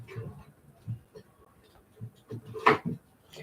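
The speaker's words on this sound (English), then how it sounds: "My bearded dragon has decided he's going to rearrange his house." A bearded dragon knocking things around its tank: scattered knocks and scrapes clatter faintly in the background, with one sharper bang near the end, while a voice talks quietly over them.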